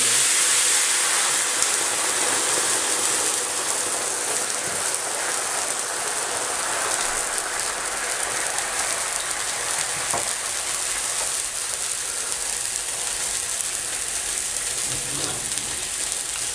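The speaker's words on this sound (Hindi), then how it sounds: "अब मैं इसके अंदर ये जो मेरे पास मीट स्टॉक है वो मैं इसके अंदर ऐड करूँगी।" Meat stock hits a hot pot of lightly browned ingredients for Afghani qabali palao, giving a steady, loud hiss and sizzle that holds evenly throughout, with no talking.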